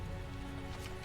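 Steady, even rain falling in Tales of Zestiria, a dense continuous patter of drops with no breaks, heard as a close, moderately soft wash.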